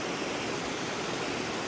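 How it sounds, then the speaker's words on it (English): A flowing creek rushes in a steady, even wash of water noise, close and continuous, with no voices. "This creek just goes and goes and goes."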